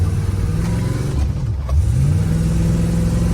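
A 1956 Chevrolet Bel Air engine revs under load while driving, with a loud, steady mid-pitched roar that dips briefly, then rises and holds as the car accelerates.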